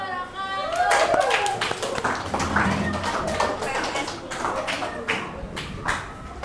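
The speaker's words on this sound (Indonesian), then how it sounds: "kita kasih aplaus ya" Applause from a classroom after a student group presentation, a rush of clapping from many hands that follows a spoken closing and thins out while voices carry on.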